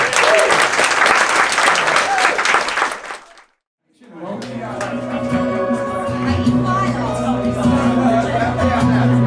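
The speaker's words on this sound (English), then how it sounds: "A round of applause, please." Wedding guests burst into loud, close applause after the speeches, mixed with some chatter, then a brief silence before music with a steady beat and low tones comes in.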